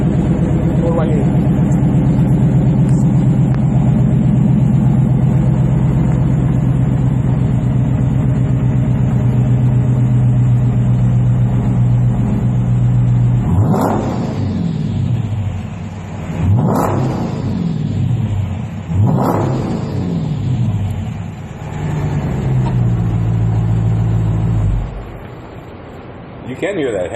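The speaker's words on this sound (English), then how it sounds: "You can hear that Hemi, that sucking in the air." A 2014 Dodge Challenger R/T Shaker Hemi V8 with Borla exhaust rumbles at a loud, close idle, then three sharp revs swell and fall back before the engine drops off near the end.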